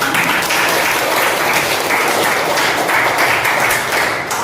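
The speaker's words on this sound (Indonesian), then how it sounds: "kasih aplaus dulu buat kelasnya" A classroom of students applauds, with dense, even clapping that stays loud and continuous for a few seconds, with no speech over it.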